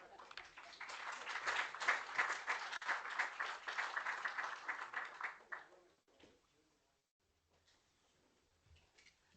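An audience applauds the governor with sustained, dense clapping for several seconds, then the clapping tapers off quickly into near silence.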